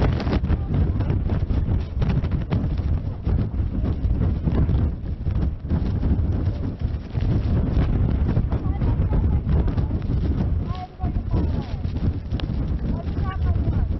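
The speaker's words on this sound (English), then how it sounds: "these gusts are really picking up" Strong outdoor wind gusts pound a reporter's microphone in a continuous loud, low buffeting roar on a cold winter news broadcast, with brief dips between gusts and no clear speech.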